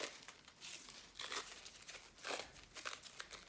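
Cohesive tape is unwrapped and wound around a device, giving a soft crinkling and peeling rustle in several faint bursts, close by and alone.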